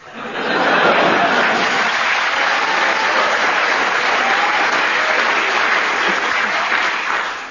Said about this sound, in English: I don't know what you're clapping for.